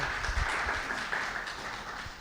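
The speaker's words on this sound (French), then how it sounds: "On peut l'applaudir une nouvelle fois." Conference audience applauding a panel speaker, a short, steady burst of moderate clapping with no voices over it.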